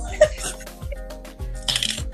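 Close, crisp riffling bursts of playing cards shuffled by hand, off a flat surface, during a card reading, repeating in quick flurries with a voice talking softly between them.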